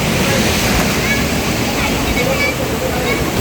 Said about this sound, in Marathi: तुम्ही लाटा बघू शकता किती डेंजरस चालू आहेत